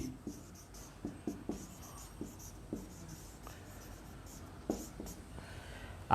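Pen writing on paper while entering accounting journal entries in a double-entry bookkeeping lesson: a run of short scratchy strokes at close range, irregular rhythm, moderately quiet, with no talk and a louder knock at the very end.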